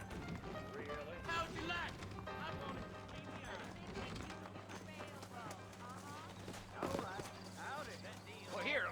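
Horse hooves clip-clop in Red Dead Redemption 1 as riders set off from town, a steady patter of hoofbeats with occasional snorts, sitting under ongoing character dialogue.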